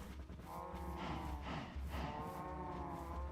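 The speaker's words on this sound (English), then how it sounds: "Let's go ahead and breed the cows real quick as well." Cows mooing in Minecraft while being bred: a few drawn-out, low moos follow one another over about three seconds. They sound quiet and slightly distant against a soft background, with no talking.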